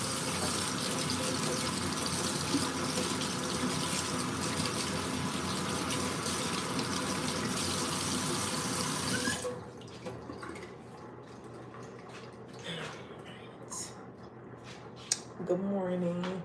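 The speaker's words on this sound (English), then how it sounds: "I gotta wash this off real quick." An item being rinsed under a running kitchen tap while a peanut butter and jelly sandwich is made: the water gushes steadily for about nine seconds, then shuts off, leaving quiet clicks and clatter of handling.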